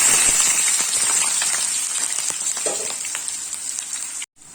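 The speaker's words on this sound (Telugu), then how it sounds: "ఉల్లిపాయలు వేగుతూ ఉంటాయండి" Onions and green chillies fry in oil in a pan, a close, crackling sizzle with popping droplets that slowly softens before cutting off abruptly.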